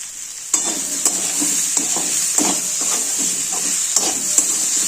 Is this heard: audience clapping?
no